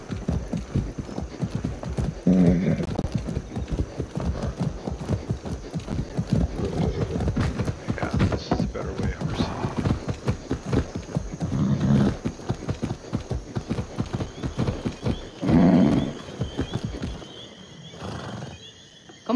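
Horses in the Far Cry 6 video game trot with steady, close clip-clop hoofbeats throughout, broken by several loud neighs and whinnies before the sound drops away at the very end.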